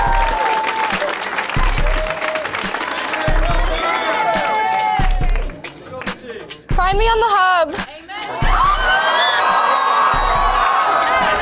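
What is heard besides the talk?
studio audience applauding and cheering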